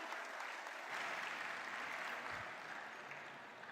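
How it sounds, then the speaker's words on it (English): At a national-level felicitation ceremony, a large audience gives faint, distant applause that blends into a dense, steady wash. It holds evenly for a few seconds and then slowly fades. "A big round of applause."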